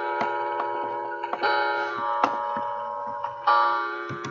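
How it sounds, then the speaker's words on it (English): A looping clock tick-tock from a video game, its steady ticks and clicks repeating at moderate loudness over a continuous tonal background. "No, looping clock sounds."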